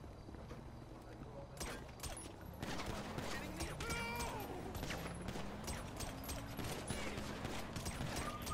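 Revolver shots in a GTA V Online deathmatch: several sharp cracks scattered through the clip, fairly faint and mixed with voices talking in the background.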